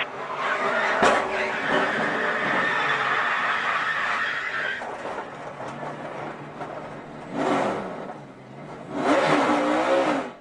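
Stock cars racing and wrecking at the Daytona 500, a loud, continuous roar of engines from a pack of cars with sharp impact bursts, ending in two loud swells as cars pass close by.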